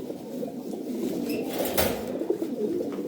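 Pigeons from a fancy pigeon collection coo steadily, a low continuous murmur of several birds close by, with a faint flutter of wings partway through.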